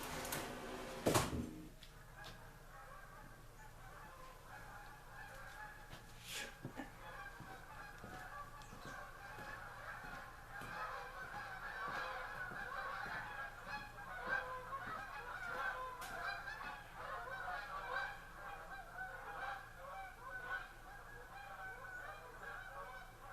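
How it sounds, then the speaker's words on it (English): Flock of geese flying over a house, honking in a continuous overlapping chorus that stays fairly faint and distant for over twenty seconds, with a couple of sharp knocks near the start. "What that racket was is the geese that I have been hunting have added insult to injury by flying directly over the house"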